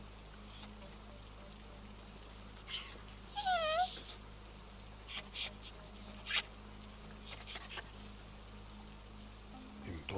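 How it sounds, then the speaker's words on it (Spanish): A small puppy whimpering with faint, thin high-pitched cries and squeaks, several short whines scattered across a quiet, low-humming background. "escuchó el llanto de un perro pequeñito. Parecía un cachorro"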